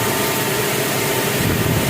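A rib knitting machine runs at speed, a loud, dense, steady mechanical whir with no pauses or voices.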